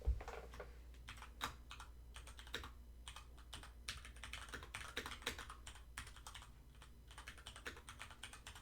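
Rapid clicking of computer keys, irregular bursts of typing up close with occasional louder key strikes, no voices.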